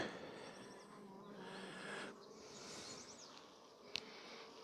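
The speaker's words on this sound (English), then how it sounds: "Oh, lots of bees on the syrup." A dense, steady buzz of many honey bees swarming close by at an open hive, crowding the syrup feeder and cover, with a brief sharp knock near the end.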